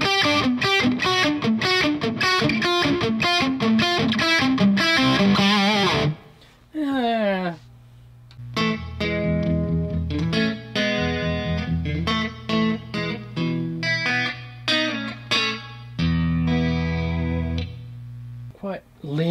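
Distorted electric guitar rhythm from a Digitech GSP21 Pro Legend effects unit, chugging with heavy reverb and echo washing over the chords, loud and continuous with a brief break midway.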